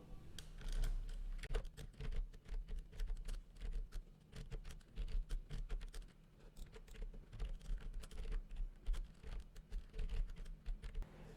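Code being typed on a computer keyboard, a steady quick patter of key clicks in uneven bursts with brief pauses, close and fairly quiet, with no voices.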